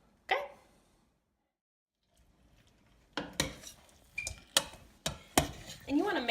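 Utensil clacks and scrapes against a pan while melting cheese is stirred for mac and cheese, a few sharp knocks after a near-silent pause, with a faint voice in the background.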